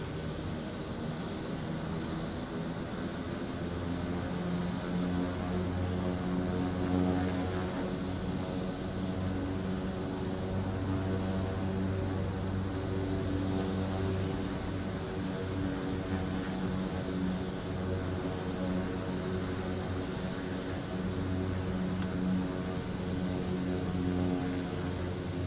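A Kodiak turboprop in the flight simulator game MSFS 2024 powering up for a takeoff in Papua New Guinea, with a continuous loud engine drone and propeller hum that holds steady throughout.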